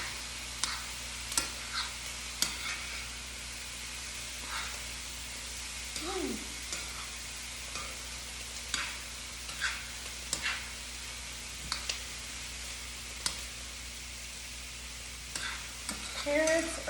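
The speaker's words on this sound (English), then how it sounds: "I want my cauliflower rice to burn." Cauliflower rice fries in a pan, a low continuous sizzle broken by scattered scrapes and taps of a utensil stirring, moderately close with no talking.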